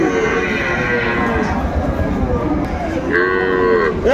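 At a busy cattle market, a cow with her calf gives long, loud moos, one early and another near the end, over a steady crowd murmur and talk.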